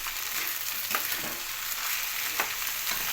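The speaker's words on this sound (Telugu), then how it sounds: "ఇప్పుడు వేగనివ్వాలి" Okra pieces frying in a pan, a steady soft sizzle with occasional sharp clicks of stirring, faint and close with no talk.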